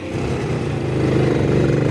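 A 1963 WSK 125 motorcycle engine runs steadily close by, with a continuous loud two-stroke drone and a rapid pulsing rhythm, no talk over it.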